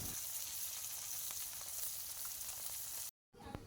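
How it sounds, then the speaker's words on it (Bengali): Bheda fish pieces fry steadily in hot oil for a Bengali ridge gourd curry, a dense continuous sizzle with scattered pops, briefly cut off near the end before the crackling resumes. "এবারে আমি সবগুলো মাছ ভালোভাবে ভেজে নেব।"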